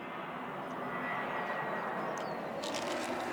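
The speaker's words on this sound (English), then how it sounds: "Sorry about the aeroplane noise." Aeroplane engine drone passing overhead in an outdoor garden, a steady broadband roar that swells slightly and holds throughout, with faint birdsong-like chirps above.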